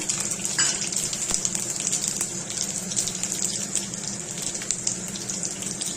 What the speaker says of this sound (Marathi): सर्वात प्रथम आपल्याला जिरे सोडायचे त्यानंतर लसूण पकळ्या घालायच्या